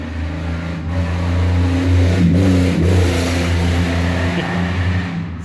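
A hot rod engine revs steadily nearby, a thick, loud mid-pitched roar that swells and eases slightly over a few seconds with no pause and no voices.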